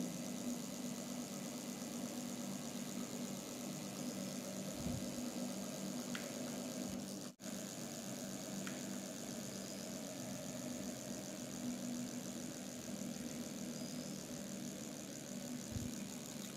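A homemade brushless DC motor driven by a homemade controller at a set RPM gives a steady, continuous hum with a faint high whine, holding evenly throughout apart from one brief dropout.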